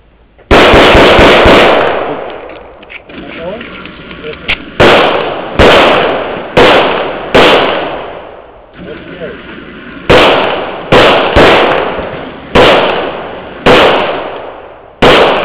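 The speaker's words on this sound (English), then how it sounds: "If you run out of ammo, you got to reload while you can. Shooter's ready." Shooters firing at targets on a range: loud, sharp gunshots in rapid bursts and then spaced single reports at irregular intervals, close by, each with a short ringing tail.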